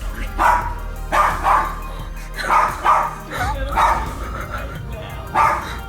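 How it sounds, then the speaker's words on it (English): A dog barks at a dark corner inside a home, giving a steady series of sharp, close barks in pairs and singles over a low background hum, with no talking. "the dog keeps barking for a while"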